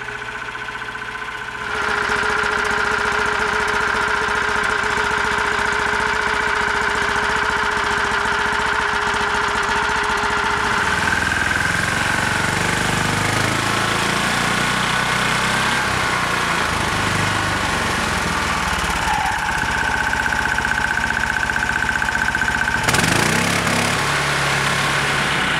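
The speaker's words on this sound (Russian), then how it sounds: "По громкости работы новый 20-сильный лифановский мотор" A 20 hp Lifan engine on a homemade snowmobile runs steadily and loudly for the whole stretch, its pitch shifting as the revs rise and fall.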